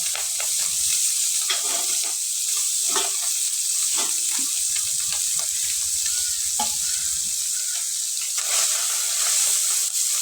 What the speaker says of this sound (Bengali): মাছগুলো আমি ভালো করে ভেজে নেব।